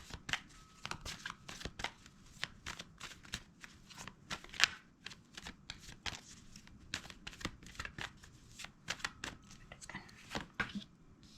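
Tarot cards are shuffled by hand in a quiet room, a long stretch of rapid riffling and flicking cards with soft paper rustles, faint and close, and brief light talk.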